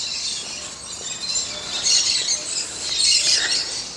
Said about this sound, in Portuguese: a gente conseguir escutar o som dos pássaros em uma região tão próxima